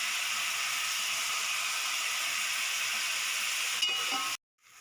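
Onions and green chillies with salt sizzle in a pan for chicken curry, a loud, steady hissing fry with faint stirring scrapes near the end before it cuts off.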